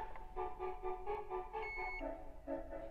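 A tattoo thermal stencil printer gives a steady electronic beep for about half a second among harmonic machine tones and a low background hum, fairly close.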